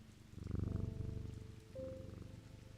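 A cat purrs in the video game Strange Antiquities, a soft, close, rhythmic rumble that pulses steadily throughout at low volume.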